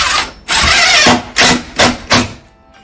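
A power driver sends screws into a shower niche board, one long whir followed by three short bursts in quick succession, loud and close.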